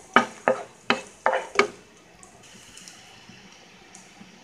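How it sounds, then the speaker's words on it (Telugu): Vegetables frying in coconut oil in a pan for a chicken soup: five sharp stirring scrapes and clacks with light sizzling, then a quieter bubbling fry continues alone. "సో దీన్ని 2 మినిట్స్ పాటు జస్ట్ ఫ్రై చేసుకుందాం."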